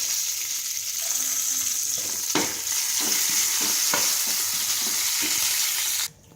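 Urad dal, cumin, mustard seeds, curry leaves and dried red chillies tempering in hot oil for a ridge gourd chutney, a loud steady sizzle with a series of spatula scrapes and taps, ending abruptly.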